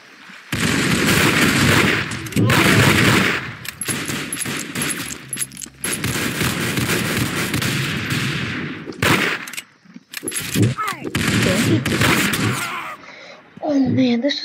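Rapid gunfire from a musket, the first weapon in a video game, bursts of shots rattling loud and continuous for several seconds with brief pauses, while a player talks over the action.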